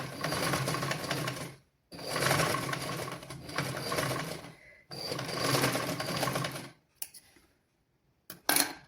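A sewing machine stitching a children's garment runs in three steady bursts of rapid whirring and clacking, each about two seconds long with short pauses between, followed by a few light clicks, loud and close.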